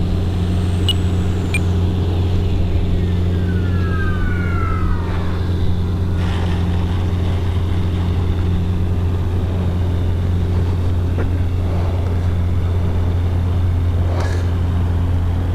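An X-FLY F-15 RC jet with twin 40mm electric ducted fans throttles up and flies around, a continuous loud whine over a steady hum, with brief pitch-falling sweeps as it passes.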